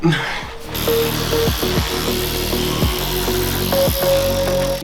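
A power drill whines in short bursts while backing Phillips screws out of the underside of a car's front bumper, several brief rising and falling spins with pauses between, close and loud.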